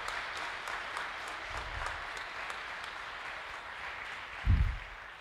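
Soft, distant audience applause during a religious sermon, a faint steady patter with a couple of low thumps partway through.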